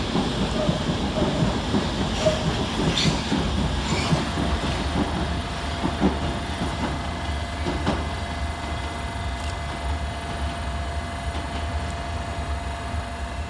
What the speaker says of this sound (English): going the opposite direction is S-Stocks 21063 and 21064 with an all-stations Metropolitan line service from Aldgate to Uxbridge